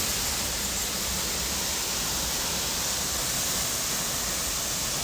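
Bering Falls in Glacier National Park gives a steady, dense roar of falling water, close and unbroken for the whole stretch, with no voices over it.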